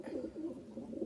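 Pet pigeons coo softly in their hut, a low, faint burbling call that rolls on continuously for a moment with no voices.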